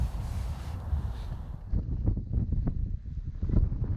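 Strong winter wind buffets the microphone outdoors at a fishing spot, producing loud, gusty low rumbles and rustling that rise and fall throughout, with no voices.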